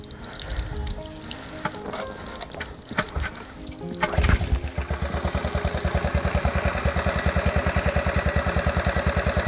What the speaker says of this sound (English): And then we'll go ahead and start the engine.